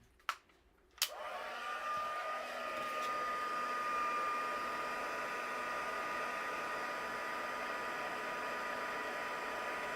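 A heat tool melts white embossing powder on a stamped card: a couple of clicks at the start, then a steady, close, blowing whir that continues evenly to the end.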